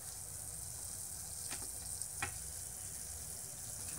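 Ginger and tea leaves dropped into a pan of boiling water while making jaggery tea, giving a steady simmering hiss with two brief splashy crackles as the ingredients go in, no talking.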